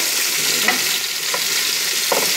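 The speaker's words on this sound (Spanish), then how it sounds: "Vamos a sellar el otro, la otra carita del pollo" Chicken pieces searing in a hot pan for orange chicken, a loud continuous sizzle close by, with occasional soft scrapes of a spatula turning the meat.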